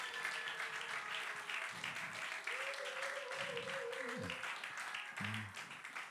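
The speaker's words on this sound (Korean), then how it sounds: "우리 박수로 환영하도록 하겠습니다." A church youth service audience applauds to welcome people, faint clapping in the background with a voice speaking over it.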